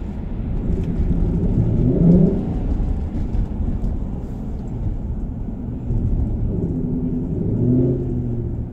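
A supercharged Suburban with about 104,000 miles on its engine pulls away, a steady low rumble swelling into two louder revving surges, at the start and end, with no talking.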